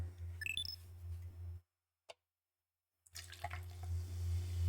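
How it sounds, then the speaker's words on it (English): A drink poured into a glass, a steady watery trickle that cuts to near silence with a faint tick, then resumes, with no talking over it. "Can you guys hear this pour?"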